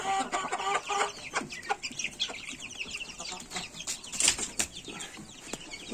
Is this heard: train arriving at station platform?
no